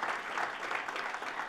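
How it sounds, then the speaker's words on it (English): A contest audience applauds the announced winner at a small-business pitch final, steady dense clapping throughout with no voices on top. "Can we give a big round of applause?"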